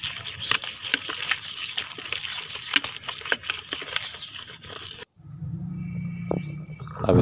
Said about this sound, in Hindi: ये देखिए, इसमें थोड़ा थोड़ा पानी डालते जाएं